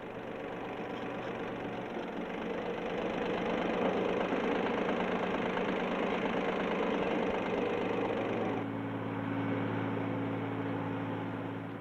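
A 1983 Ford 1710 compact tractor drives a post-hole digger from its PTO at full engine revs, giving a loud, steady diesel drone that holds level throughout and shifts pitch slightly near the end.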